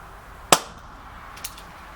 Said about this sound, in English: let's shoot this gun in single action first